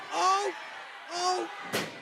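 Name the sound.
chair slammed down in a wrestling match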